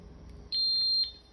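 A Honeywell Vista-20P security system keypad gives a single sharp high-pitched confirmation beep lasting about half a second when a 5804/5834 keyfob arms it to away, loud and close over a quiet room.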